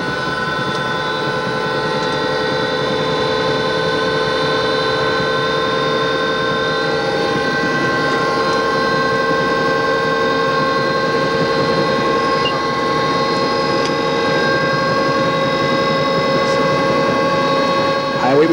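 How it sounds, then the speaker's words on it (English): A traffic-reporting helicopter warming up, a steady, loud turbine whine with sustained tonal hum that holds constant throughout and stays close to the microphone. "The chopper is now warming up."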